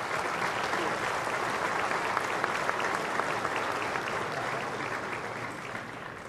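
Audience at an agricultural livestock auction broadcast applauding, a dense steady wash of many hands clapping that holds evenly and tapers slightly at the end.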